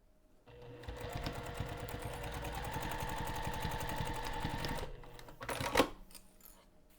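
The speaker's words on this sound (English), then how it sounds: "So I'm going to take this over to the sewing machine, and we're just going to sew the side edges" A sewing machine runs steadily for about four seconds, stitching the side edges of a backpack strap with an eighth-inch seam allowance, then stops, followed by a brief clatter.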